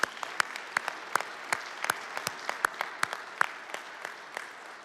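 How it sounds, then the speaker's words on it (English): Quiet, distant round of applause from a civic audience at a city's State of the City address in Mulberry, Georgia, with sparse individual claps standing out through about five seconds. "I think that deserves a round of applause."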